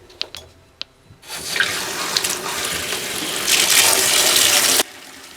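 Tap water gushes into a sink to wash a skein of blue handspun yarn, starting after a few faint clicks and running loud and steady, swelling stronger near the end before cutting off abruptly.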